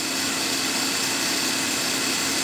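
A Wuling Confero van's engine running with the air conditioning switched on, a steady close hum with a whirring fan-like hiss layered on top, even and continuous with no speech.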